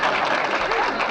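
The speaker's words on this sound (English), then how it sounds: "They're all clapping." Applause from a crowd in a scene of the movie Escape from the Planet of the Apes, a dense burst of clapping mixed with voices.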